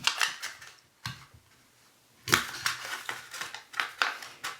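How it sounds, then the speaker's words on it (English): A small hole punch clunks through wrapping paper in several sharp, close mechanical punches. Paper crinkles and rustles between them, and the clip has no talking. "Now my hole punch actually makes quite a small hole."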